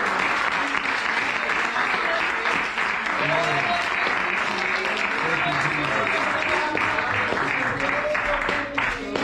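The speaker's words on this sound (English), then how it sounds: "Let's give the Lord one more great hand clap of praise." Congregation at a Pentecostal fire conference service giving a sustained hand clap of praise, a loud continuous roar of many hands clapping, with cheering voices and talk mixed throughout.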